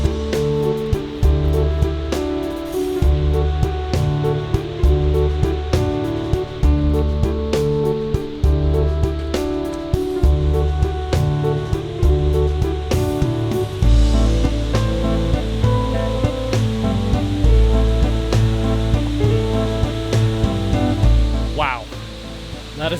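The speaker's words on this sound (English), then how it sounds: "Can't see it yet, but I definitely hear water now. Sounds pretty intense." Rushing water in Savage Gulf, a loud, continuous roar of a powerful cascade or rapids, steady and close throughout with no speech.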